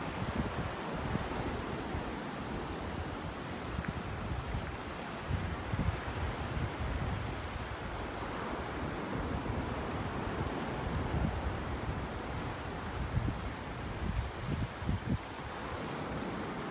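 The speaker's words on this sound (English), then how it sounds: "the waves action slows down on the beach here" Gentle Gulf waves wash onto a North Naples, Florida beach slowed by a sandbar, heard as a soft, continuous surf rush with gusty wind buffeting the microphone throughout.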